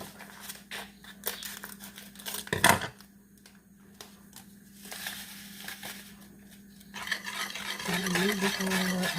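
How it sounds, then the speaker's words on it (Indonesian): A spoon scrapes and stirs caramel in a pan in uneven strokes, with a sharp clatter early on and a faint sizzle building toward the end. "Dan ini bisa aduk-aduk dulu biar tercampur ya, biar larut dulu."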